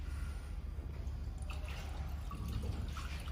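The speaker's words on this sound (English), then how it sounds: "So how can we add the water to water tank? Just like this." Water pours steadily into the water tank of a fiber laser welding machine, a continuous splashing trickle with small drips, heard up close with no talk.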